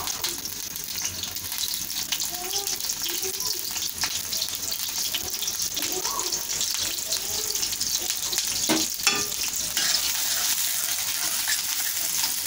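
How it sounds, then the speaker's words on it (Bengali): Spice paste and chopped green chillies frying in hot oil for a chicken pasta dish, a steady, close sizzle with crackling bursts and a brief stir or splash near the middle, no talking. "তেল দেওয়ার পরে এখন আমি এখানে কিছু পেস্ট করছি দিয়ে দিব তেলের মধ্যে, আর সাথে কাঁচামরিচ কুচিগুলো দিয়ে দিব।"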